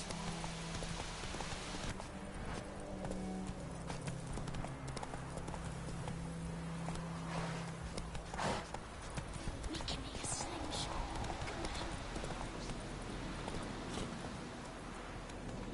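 A horse gallops in the video game The Witcher 3, with continuous rapid hoofbeats close up for the whole stretch and a voice speaking over them.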